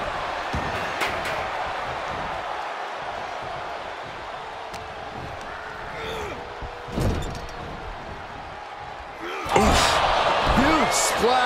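A wrestler crashes down in a slam in the WWE 2K24 video game, a loud thud rising out of constant arena crowd noise, followed by a brighter burst of crowd reaction near the end.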